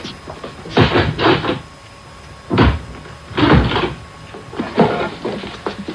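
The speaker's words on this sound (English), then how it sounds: "Just go and open the street door for them" A street door of a house in a radio drama of Oliver Twist is unlatched and pulled open, with a close run of wooden clunks, rattles and thumps in uneven bursts.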